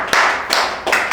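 A few sharp hand claps land irregularly, roughly four in just over a second, close and fairly loud with no talk over them, during a Malayalam comedy sketch.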